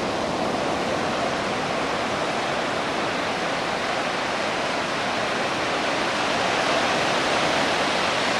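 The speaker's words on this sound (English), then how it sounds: "Listen to the wave." Ocean surf at Avila Beach at night, a steady, dense wash of breaking waves that hisses without pause, loud and close with no voices.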